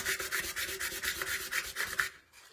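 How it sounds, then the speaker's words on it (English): A Dollar Tree candle holder is rubbed with wet sandpaper in quick back-and-forth strokes, about a dozen rhythmic scrapes close up before stopping abruptly. "Then I take my sandpaper."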